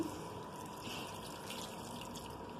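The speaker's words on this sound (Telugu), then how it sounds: "ఇప్పుడు కొద్దిగా వాటర్ వేసుకొని మూత పెట్టి ఉడికించుకుందాం" Water is poured into a pot of flat bean curry gravy as it cooks, a steady unbroken splashing and trickling that runs throughout at moderate loudness with no talking.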